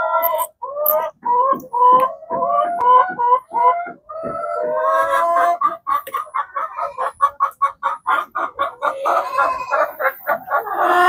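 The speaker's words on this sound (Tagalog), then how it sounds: "Yan yung mga manok ko. Na nangingitlog." Egg-laying hens on a backyard farm clucking in busy, overlapping calls, with a rooster's crow mixed in, loud and close, building into rapid rhythmic clucks with no talk.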